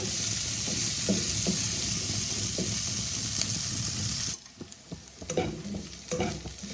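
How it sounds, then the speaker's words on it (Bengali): Cauliflower, carrots and beans fry in a pan for a mixed-vegetable moong dal, with loud dense sizzling and stirring that suddenly drops to quieter, sporadic scraping and crackle partway through, no talk. "দেখো ফুলকপি, গাজর, বিনসগুলো আমার ভাজা হয়ে গেছে"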